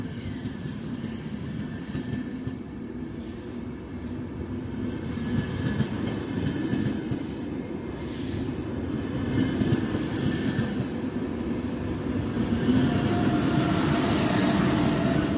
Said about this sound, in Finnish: minä haluan nyt kuvata tämän junan.